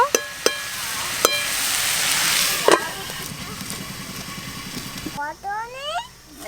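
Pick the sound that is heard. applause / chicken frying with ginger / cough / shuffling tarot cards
chicken frying with ginger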